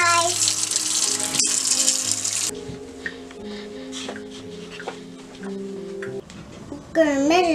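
Hands washed under a running tap while making slime, with a steady splashing rush of water for a couple of seconds before it quiets into softer clinks and household sounds, ending with a voice.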